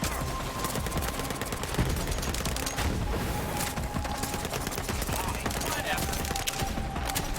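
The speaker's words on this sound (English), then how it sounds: "an assault rifle called the Sickle. It's an assault rifle that also doubles as a shotgun." The Sickle, an assault rifle that doubles as a shotgun in Borderlands 3, fires continuously for several seconds in dense, loud automatic bursts with booming reports.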